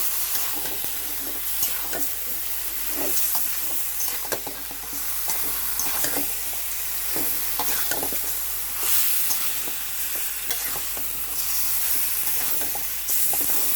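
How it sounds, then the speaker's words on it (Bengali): Chicken pieces are stirred with spices in a frying pan, producing a continuous soft sizzle with regular scraping and clacking stir strokes close by over a low steady hum. "এইভাবে নাড়াচাড়া করে মশলাটা মিশিয়ে নেব মাংসের সাথে"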